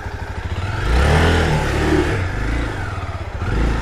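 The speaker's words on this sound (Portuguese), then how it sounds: "Aí, desatolei a moto." A motorcycle stuck in mud revs hard as it is worked free, its loud engine swelling and holding a strong drone for a few seconds before easing back, with no talk over it.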